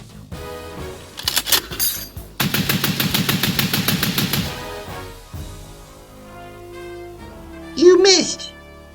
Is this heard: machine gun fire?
yes